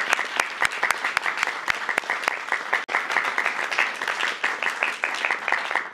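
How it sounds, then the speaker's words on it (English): A crowd applauds, with dense, steady clapping from many hands filling the room before it gradually thins out. "Give yourselves a round of applause."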